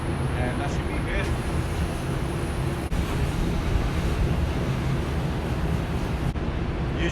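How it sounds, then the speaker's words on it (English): Water sprays onto a V-shaped AC coil during HVAC maintenance, a continuous loud hiss with brief breaks in the flow, close to the microphone. "I'm gonna go ahead and just put water on this, and that should be good."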